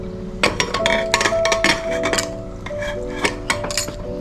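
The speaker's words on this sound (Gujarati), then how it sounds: "હવે આપણે એનું ઢાંકણ ઢાંકી દઈએ" A metal pressure cooker lid is set and fitted onto the pot over stuffed parwal curry, making a close series of sharp metallic clinks and clatters, several taps and scrapes in quick succession.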